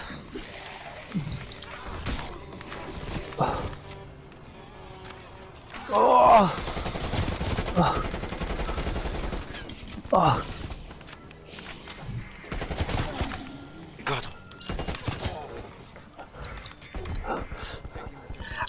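Gunfire in Call of Duty Black Ops Cold War multiplayer, bursts of automatic and single shots popping in clusters amid game effects, with players talking excitedly over the action.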